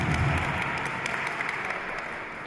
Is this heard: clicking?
no